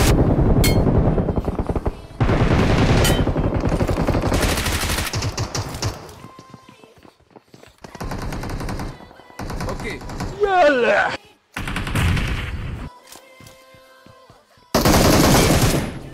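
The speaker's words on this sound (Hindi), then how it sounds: "मेरे हाथ में एम सेवन सिक्स टू तो देख ही रहे हो ये फुल अपग्रेडेड गन है जो न्यू आई है तो आओ जरा इससे बंदे चमकाते हैं" Automatic M762 assault rifle fire in PUBG Mobile with a full upgrade: loud, close bursts of rapid shots that start and stop repeatedly, with short gaps between volleys and brief quieter stretches.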